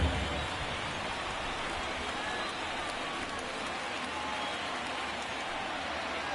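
Steady rain hiss from a PS4 baseball video game, a continuous broadband wash filling the whole stretch at an even level with no voices over it.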